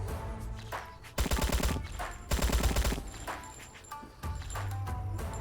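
Rapid bursts of automatic gunfire in the video game The Slaughtering Grounds, two long loud volleys followed by shorter fire, with game effects and no talk over it.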